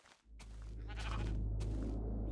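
Sheep bleating in Minecraft Beta 1.7.3, a brief bleat near the start over a loud steady low hum that fills the clip, with another short call later.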